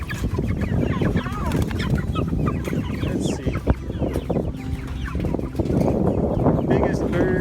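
Cornish Cross meat chickens clucking and squawking up close while being handled for weigh-ins, a dense continuous flock chatter with sharp calls, and someone talking briefly over it.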